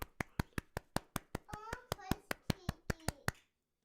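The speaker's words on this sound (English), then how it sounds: "Everybody, round of applause for Vivian Kaufman." Regular, evenly spaced hand claps ring out close by, about sixteen sharp strikes in a steady rhythm, as a studio host and guests applaud a guest's arrival on a live show, with brief voiced tones riding over the middle claps.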